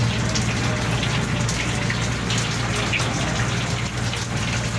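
Rain falls over the sea off Zamboanga City where fishing boats work, a constant hissing patter of drops on water with a steady low hum beneath, close and unbroken.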